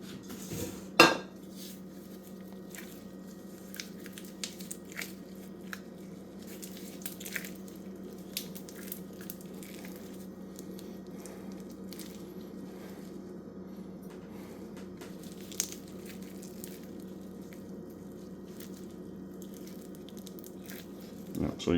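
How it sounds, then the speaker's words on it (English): Butter being creamed in a mixing bowl for puff pastry dough, with steady scraping and clinking of a utensil against the bowl, occasional sharper knocks, and a constant low hum underneath. "Then you want to cream the butter."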